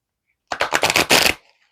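A deck of cards riffle-shuffled once up close, a quick burst of rapid flapping clicks lasting under a second in otherwise silence.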